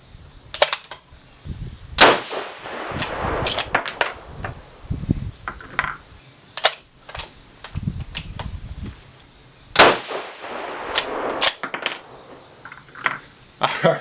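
Several 6mm Creedmoor rifle shots fired at a target with large rifle primer brass, sharp loud cracks spaced irregularly a few seconds apart, each with a brief echoing tail over outdoor background noise.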